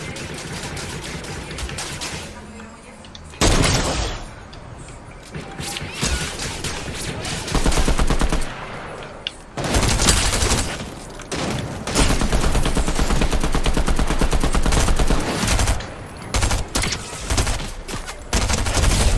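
Gunfire from the Fortnite video game crackles in loud rapid bursts and fusillades, separated by brief quieter gaps, with occasional low booms.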